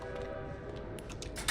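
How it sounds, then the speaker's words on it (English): A train horn blares in the video game Bendy and the Dark Revival, a sustained chord-like tone holding steady over rumbling rail noise, with a few sharp clattering bursts near the end; no one speaks. "Train!"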